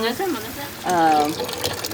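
Tap water runs steadily into a cooking pot being filled for boiling chicken, a close, continuous gushing and splashing with a changing pitch as the pot fills.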